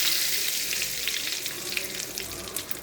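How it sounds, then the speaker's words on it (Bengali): Whole cumin, whole garam masala and bay leaves crackle and sizzle in hot oil, a steady, close, bright frying hiss with small pops throughout. "আমি তেলের মধ্যে ফোড়ন দিয়ে দেব গোটা জিরে,"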